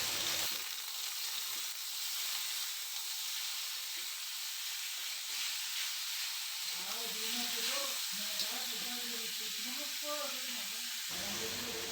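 Chayote frying and being stirred in a pan, a steady loud sizzle and hiss with scraping stir strokes near the end, cooked with curly chilies.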